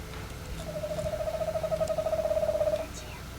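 A single screech owl gives a long, even trill of rapid hooting notes lasting about two seconds, moderately close, over faint outdoor wetland background noise.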